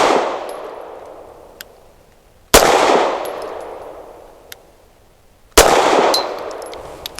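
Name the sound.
Grand Power Mk23 pistol firing 115 grain ammunition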